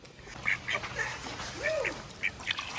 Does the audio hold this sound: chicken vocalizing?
yes